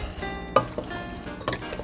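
Shrimp pasta with basil being tossed and stirred in a hot pan, a quiet sizzle with a couple of soft scraping clicks from the utensil against the pan, short and close.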